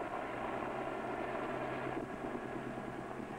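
A large passenger helicopter comes in to land with a steady, broad engine and rotor roar, continuous and moderately distant, with no voices.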